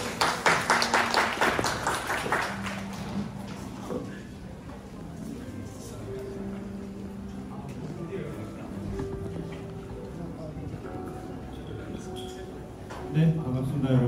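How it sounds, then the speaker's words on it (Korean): Audience applause greets a speaker at a brand marketing conference in a short, loud burst of clapping that fades within a few seconds, followed by quieter room noise, footsteps and someone speaking. "그럼 모시겠습니다. 박수 부탁드립니다."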